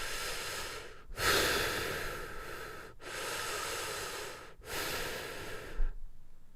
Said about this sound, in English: I can't hear you, you're just annoying breathing